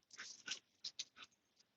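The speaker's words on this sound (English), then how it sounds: "I'm going to take my pretty dog in and let her have a cookie" A pet dog named Luna eats a cookie up close with a handful of quick, crisp crunches and chews in a brief irregular burst. The sound is faint, with no talking.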